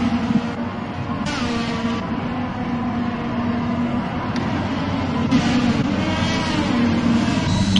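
F1 2021 video game race cars accelerating away at a restart on the Austria circuit, a continuous loud engine drone with rising and shifting gear tones as several cars pull through, no talk over it.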